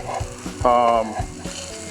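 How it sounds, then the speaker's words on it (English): Garlic hitting a hot pan with caramelizing vegetables, a close, bright sizzle that rises sharply and then settles, with some stirring clatter and a harmonic tonal squeal partway through. "The garlic is going in now"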